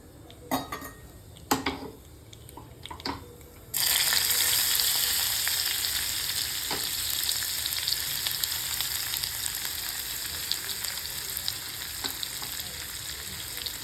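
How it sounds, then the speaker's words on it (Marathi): Garlic being fried in oil in a pan, with a few spoon clinks before a loud, dense, continuous sizzle starts up suddenly and holds steady, close, with no talking. "नाही, अगोदर मी लसूण टाकणार आहे."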